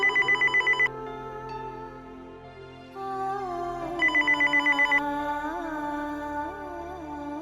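A telephone rings in a TV drama scene, bursts of rapid electronic trilling repeating in a regular pattern, close and clear over a soft melodic music bed.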